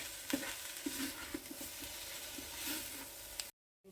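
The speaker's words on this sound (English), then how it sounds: "So I'm going to stir it through and it will cook for a minute or so on its own, or just with these vegetables" Vegetables sizzle softly in a Ninja multicooker while a utensil stirs them with light, repeated scraping strokes, quiet and close, before the sound cuts off abruptly.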